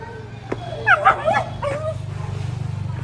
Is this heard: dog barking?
yes